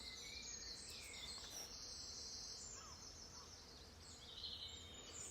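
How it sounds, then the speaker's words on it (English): Faint, high bird chirps and trills drift over a quiet woodland hush, with a soft insect-like buzz. "so you may be able to hear the birds singing."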